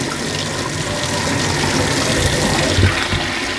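Steady, loud running water pours through shrimp tank substrate being rinsed, a continuous close gushing hiss with no talk.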